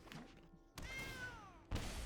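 A house cat gives a short meow, its voice sliding downward, between a dull thunk at the start and another thump at the end, with faint background sound around it.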